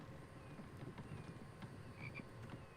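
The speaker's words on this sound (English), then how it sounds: "Oh, it's a frog. I didn't know what that was." Frog croaking in the survival video game The Infected, a dense rumbling chorus of low croaks that holds steady throughout, with faint chirps above and no talking.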